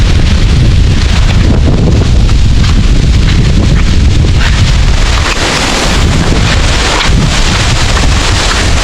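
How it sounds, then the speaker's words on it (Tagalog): Loud, continuous roaring wind from a typhoon in a rural hillside farm area, battering the microphone with a dense, unbroken rush and no voices. "Lakas na yung hangin mga kaswelo."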